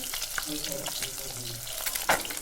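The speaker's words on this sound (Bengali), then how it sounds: "এখানে প্রথমে মাছটাকে ভাজা করে নেওয়া হচ্ছে" Pieces of catla fish sizzle as they fry in hot oil in a pan, a close, even crackling hiss with a few sharper pops and light utensil clicks.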